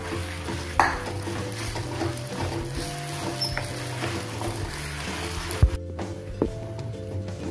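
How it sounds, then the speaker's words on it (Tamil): Semolina and jaggery being stirred in a pan for sojji appam, a steady scraping and soft clinking of spoon against the pan with a few sharper knocks, close and fairly quiet. "எல்லாம் நல்லா கலக்கிற மாதிரி கிளறிடுவோம்."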